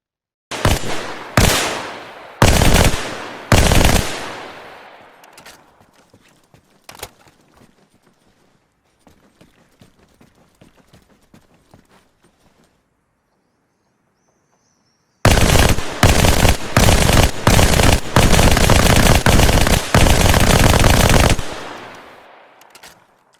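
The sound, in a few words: burst-fire SMG gunshots in a video game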